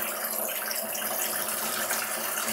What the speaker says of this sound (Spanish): Apretando la canilla de esta forma, le hacemos circular agua por el interior